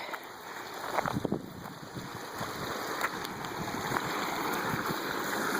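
Creek water flowing over a rocky beach, a steady close rushing and gurgling wash that builds slightly, with faint wind and a few brief clicks and knocks over it.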